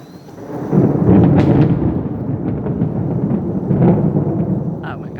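Loud rumbling thunder rolls through a storm on a tornado day, a long low roar swelling and fading over several seconds amid wind and rain noise outdoors.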